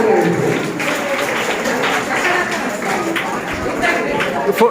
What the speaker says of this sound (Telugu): దేవునికి చప్పట్లు కొడదాం.